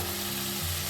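Warm water poured onto roasted ground masala for a fresh toor bean amti, giving a loud, dense, continuous hiss and sizzle that fills the short moment.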